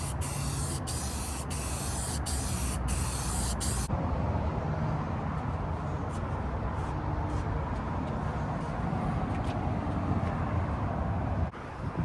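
A spray gun lays a second coat onto the deck of a Gheenoe Classic skiff. The hiss is loud and continuous, with a few sharp bursts early on and a change in tone partway through.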